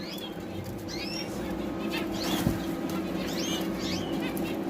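Japanese sparrows and other small aviary birds flap their wings in repeated soft fluttering bursts, with faint chirps over a steady background hum and no talking.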